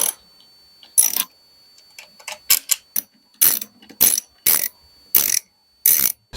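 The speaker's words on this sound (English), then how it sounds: "So now we need to remove this bolt and these two nuts with the 8mm socket wrench." An 8mm ratchet socket wrench loosens a bolt and nuts on a Honda EU2200i generator. It makes short, crisp bursts of ratcheting clicks, repeated about once a second, close by and with no talk.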